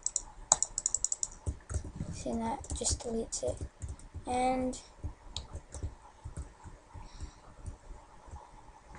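Clicking of a computer mouse mixed with keyboard typing taps, close and fairly quiet, under a man's speech.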